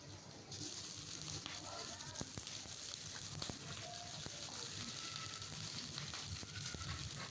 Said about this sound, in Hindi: ये गर्म हो गया तो इसमें मैं चिकन डालने लगी हूँ।